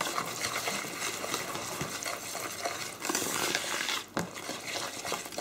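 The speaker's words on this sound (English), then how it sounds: "take a balloon whisk, throw in all those liquids to get them once all at once. And just give it a good mix" A balloon whisk mixes liquids into a thick batter for low-protein chicken nuggets, making continuous wet swishing and sloshing close up with brief clinks against the bowl.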